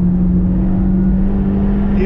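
A 2018 Toyota Yaris GRMN hot hatch runs hard on a racing circuit, its engine a loud, close, steady droning note that holds level throughout with little change in pitch.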